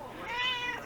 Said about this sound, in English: Yeah, meow is right